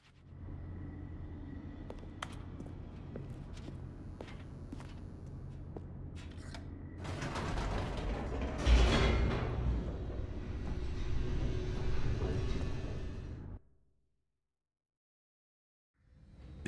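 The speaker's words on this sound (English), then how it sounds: "The elevator raced downward, plummeting towards an unknown fate." An elevator in The Stanley Parable descends with a steady low mechanical rumble that swells into a louder rushing roar, then cuts off abruptly into near silence before a faint return of sound.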